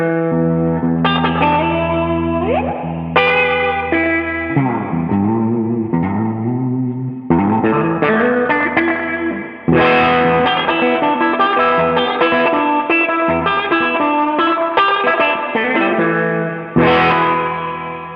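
Electric guitar played through an Empress reverb pedal with no fuzz, sustained chords and melodic lines ringing loud and alone, each phrase trailing into a long, washy spring-style reverb tail.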